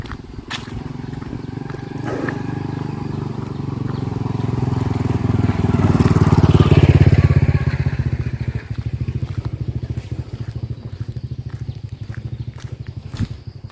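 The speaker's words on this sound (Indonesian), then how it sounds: "nih kayak ada suara motor" A motorcycle engine rumbles in the distance, growing louder as it approaches, peaking midway, then fading away amid outdoor ambience at Parangtritis Beach.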